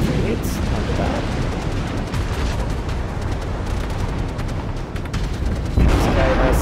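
Naval guns fire in World of Warships from the Japanese tier 6 cruiser Aoba: a loud, continuous rumble of heavy gunfire and explosions with bursts of sharper blasts, ending in a louder boom, with faint talk underneath.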